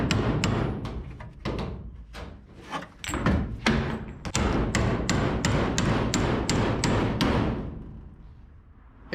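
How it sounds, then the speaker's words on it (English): Hammer and dolly pounding a dented aluminum U-Haul truck box panel, a rapid, loud, metallic series of close blows that speeds into an even rhythm before tapering off. "We're gonna whoop on her with this dolly here."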